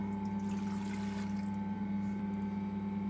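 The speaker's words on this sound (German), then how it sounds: "Im ersten Schritt kommt das Wasser in die Knetmaschine" Water runs into a dough kneading machine, a steady pouring and trickling wash over a constant mechanical hum, close and alone with no talk.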